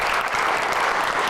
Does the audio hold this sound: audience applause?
yes